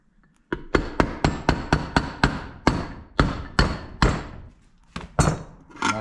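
About a dozen sharp metallic hammer blows knock down a Saginaw power steering pump cover, each strike ringing briefly, spaced in an uneven rhythm with short pauses, close and loud with no talking.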